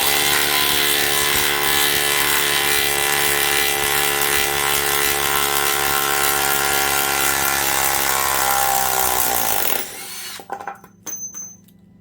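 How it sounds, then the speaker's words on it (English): A loud, steady mechanical whine of a DeWalt 12V brushless 1/2-inch drive sub-compact impact wrench running nonstop for about ten seconds, then stopping abruptly, leaving quieter clatter. "Electric impacts are just super loud."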